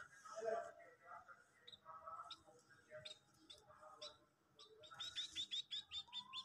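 A sparrow chirps repeatedly while drinking milk, with thin high tweets scattered throughout and a quick run of rhythmic chirps near the end, all faint and under nearby talking.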